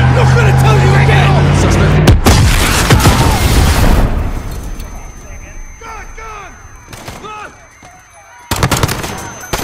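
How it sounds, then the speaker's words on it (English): Call of Duty Modern Warfare battle at Piccadilly Circus: a loud booming blast and burst of rapid gunfire up close, then quieter chaotic noise with shouting voices, ending with another sharp loud impact. "There's been a detonation at Piccadilly Circus."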